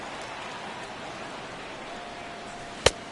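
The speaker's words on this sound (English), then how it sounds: "the rain is really starting to come down" Heavy rain pours down over a baseball stadium at night, a steady, hissing wash of noise that holds evenly throughout, broken near the end by one sharp, brief knock.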